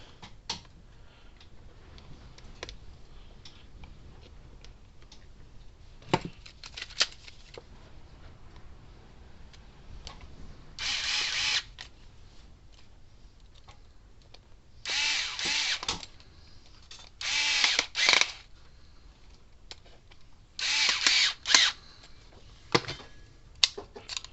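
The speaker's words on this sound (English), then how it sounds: "Put these screws back in it." A power drill drives screws back into a Gallagher Smartfix fault finder, sounding in several short whirring bursts of about one to two seconds each, separated by quiet pauses and small handling clicks, close and fairly loud with no talking.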